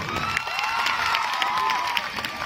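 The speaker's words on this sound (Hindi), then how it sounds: "तालियां बजा दो अगर अच्छे दर्शक हो।" A stand-up comedy crowd cheers and whoops with some clapping, a continuous mix of shouts and applause at moderate level.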